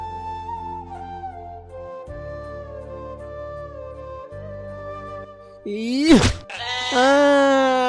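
A sheep in a Hindi animated retelling of Adam and Eve bleats loudly in a short, wavering cry near the end, with a bright harmonic wail following after a quiet stretch of tonal music.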